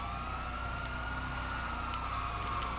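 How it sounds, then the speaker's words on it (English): Emergency vehicle sirens in FiveM GTA V roleplay play as a steady, continuous wail layered over a constant engine drone, moderately loud with no pauses across the short stretch. "y'all should be bumping your sirens"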